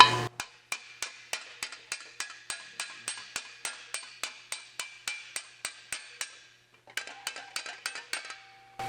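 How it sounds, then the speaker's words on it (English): Steady, rhythmic hammer blows on metal, about three per second with sharp ringing clinks, a brief pause, then more strikes. "We'll hammer this one down."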